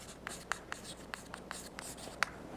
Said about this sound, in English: And I will write here Kontsevich